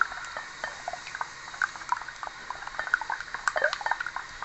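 Beaten eggs and vanilla essence stirred in a bowl for a tapioca cake, giving a soft, steady scraping and light clinking of a spoon against the dish, close and quiet with no voices.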